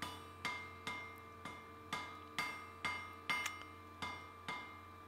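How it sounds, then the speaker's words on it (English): A light hammer taps steadily on hot wrought iron to tack a forge weld, about ten evenly spaced ringing metallic strikes, each with a short bright decay, close but fairly quiet and with no talk. "You'll notice I'm using my light hammer here because I want to weld it,"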